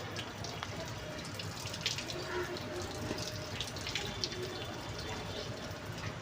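Water splashes and trickles steadily at a soft level, like liquid poured from a container, with faint background noise.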